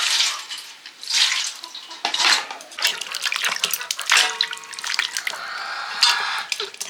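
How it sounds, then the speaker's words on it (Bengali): Two bottle gourds from a home trellis being washed by hand in water, with splashing, dripping and sloshing that comes and goes in bursts, plus light knocks against a container, close by and with no one talking. "লাউটাকে প্রথমে ধুয়েই কাটবো ধুয়ে নিচ্ছি দুটো লাউ"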